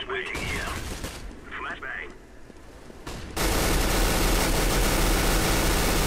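Negev machine gun firing in Counter-Strike: Global Offensive, loud sustained automatic fire that starts midway and continues to the end, with talk and other game sounds before it.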